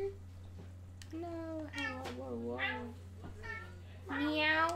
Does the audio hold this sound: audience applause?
no